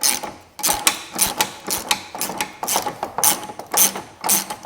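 A ratchet clicks in short, irregular bursts as it turns a stiff, rusty bolt on an MG ZS 180 front bumper, loud and close, with brief pauses between strokes.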